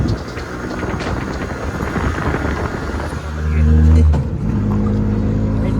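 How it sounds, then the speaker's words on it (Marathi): Auto rickshaw engine running nearby on a cold road to Raigad fort, a steady droning rumble that swells louder for a moment, with people talking over it. "रिक्षा बघा."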